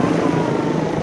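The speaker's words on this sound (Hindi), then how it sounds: "VIP लोगों को लेने के लिए हेलीकॉप्टर भी आ रहे हैं यहाँ पे" A helicopter arrives near Adi Kailash in the Uttarakhand mountains, its engine and rotor a loud, close, continuous roar that fills the whole short moment.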